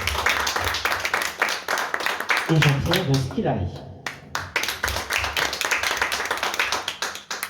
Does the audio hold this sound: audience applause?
yes